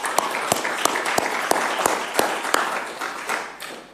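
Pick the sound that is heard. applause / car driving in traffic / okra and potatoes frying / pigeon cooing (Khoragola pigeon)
applause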